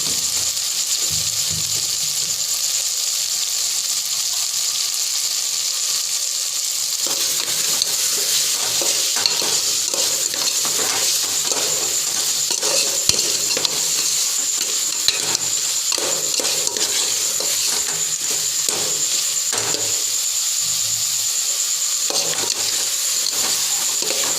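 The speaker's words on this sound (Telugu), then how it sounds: "బాగా కలుపుకోవాలి, మిక్స్ చేసుకోవాలి" Chicken curry in a pan is stirred and mixed after salt goes in, the spoon scraping and clicking in a steady repetitive rhythm over a constant close sizzle, with no voices.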